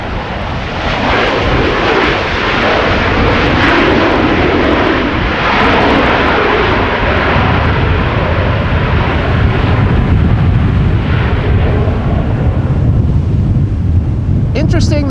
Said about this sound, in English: Interesting that is now the second Embraer that we've seen since beginning with the stream that used its reversers.